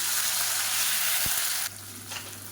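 Loud, steady sizzling of chopped tomatoes frying in hot oil, a dense crackling hiss that drops slightly near the end.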